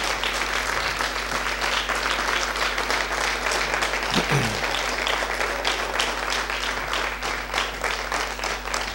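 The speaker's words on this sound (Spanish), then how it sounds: "yo voy a pedir que le brindemos un aplauso muy merecido a nuestro compañero" A crowd applauds steadily throughout, dense clapping filling the whole stretch at an even, sustained level with no break.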